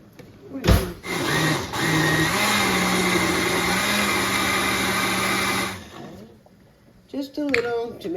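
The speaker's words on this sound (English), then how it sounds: "And I run it through the blender." A kitchen blender purees a big batch of homemade lasagna tomato sauce, a loud steady whirring motor that runs for about five seconds, then stops, followed by a voice.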